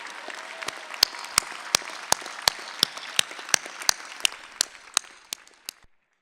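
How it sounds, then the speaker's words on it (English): Law school graduates at a commencement ceremony clap in applause for their parents, family and friends, with sharp, evenly spaced claps standing out above a softer crowd patter that thins and fades toward the end. "help me applaud our parents, our family members, and our friends who helped make our legal education possible"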